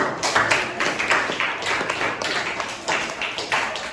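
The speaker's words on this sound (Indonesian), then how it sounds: "Beri tepuk tangan untuk kelompok 1." Students in a classroom clap for a group that has just presented, a short uneven burst of many hands in overlapping waves that stays moderately loud before trailing off.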